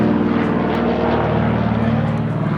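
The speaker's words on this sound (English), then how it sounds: "Of course, there has to be a damn airplane go off" An airplane passes overhead as a loud, steady propeller-like engine drone with a low rumbling hum that holds constant throughout, close and dominant, with no voices.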